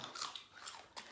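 A bite into a spicy jumbo hot dog, served alongside grilled bacon-wrapped enoki mushrooms and shrimp, gives a few short, close crunchy snaps with a final sharp crunch near the end, with no talking.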